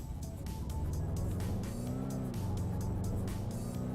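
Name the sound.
C46 car engine revving in video game Redline Racing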